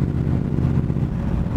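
A 1966 Chevrolet El Camino engine on a speed run near the Motor City gives a steady, loud, low rumble that holds without a break, with no talking over it.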